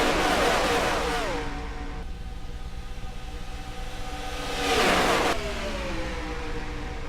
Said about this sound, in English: These trucks are indeed racing hard as Joshua Mudd's trying to do what he can to